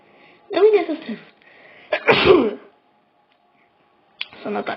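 A single person sneezes loudly indoors, with a sharp burst followed by a second forceful sneeze, each with breathy noise around it.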